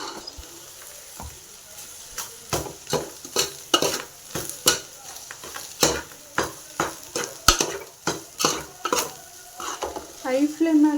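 Coriander leaves are stirred in a frying pan over a high flame, with a run of sharp, rhythmic spatula scrapes and clanks over a soft sizzle, close up and without speech.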